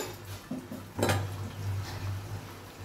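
Metal lid set onto a wok of mutton biryani, then a spatula lifted and handled, giving a sharp clang followed by light scraping and clinking over a low kitchen hum.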